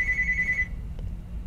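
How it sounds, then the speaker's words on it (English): A phone gives a short electronic ring that cuts off after about half a second, leaving low background hum. "that was a weird phone ring"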